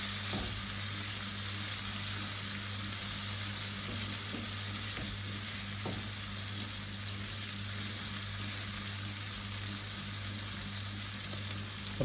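Potatoes and peas fry in hot oil with spices, giving a steady, dense sizzle with occasional faint stirring clicks, close up and continuous with no talking.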